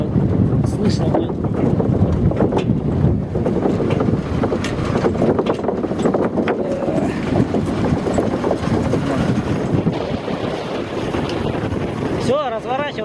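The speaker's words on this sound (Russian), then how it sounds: "Ветер поднялся, сейчас тут плохо слышно будет." Heavy wind buffets an outdoor microphone at a rural site where a water drain and sluice are being dug, a constant loud roaring rumble lasting the whole stretch, with muffled voices buried underneath.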